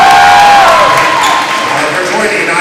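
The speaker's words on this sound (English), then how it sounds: "That's a round of applause for the Lady Hawks" Crowd cheering and applause at a Lady Hawks girls' basketball game, sounding as a loud, sustained roar of the crowd, with a whistle-like tone near the start and an announcer-style voice mixed in.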